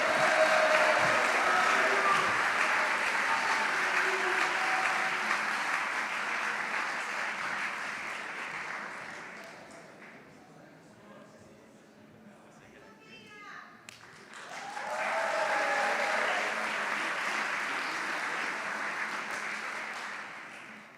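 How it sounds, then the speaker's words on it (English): An audience at a school honors awards ceremony breaks into sustained applause that fades into a quieter stretch. Later a second burst of clapping rises again, with some voices mixed in. "Please join me with a round of applause to this Juniors Academy Eagle Leadership Award"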